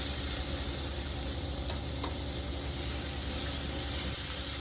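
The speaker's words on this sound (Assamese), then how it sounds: "সেই একেটা কেৰাহীতে 2 চামুচ ঘি দি বিলাহীখিনি ফ্ৰাই কৰি ল'ম।" Chopped tomatoes frying in two spoons of ghee in a kerahi wok, giving an even, continuous hiss and sizzle at moderate level with no talking.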